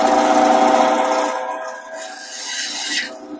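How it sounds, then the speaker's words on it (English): Wood lathe cutting a taper on a custom wooden mallet blank, a steady whining motor hum with shifting high-pitched cutting hiss from the tool against the spinning wood, close and continuous. "So as I'm cutting my taper"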